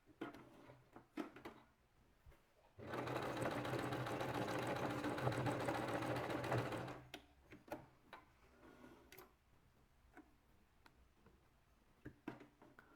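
A domestic sewing machine runs a straight stitch at stitch setting 3 in one steady burst of about four seconds. Quiet clicks and handling noises come before and after it.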